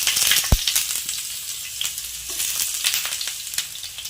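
Chopped shallots frying in hot oil with fenugreek for a Kerala-style prawn curry, a bright, crackling close sizzle with one sharp knock near the start and irregular spitting pops, no talking.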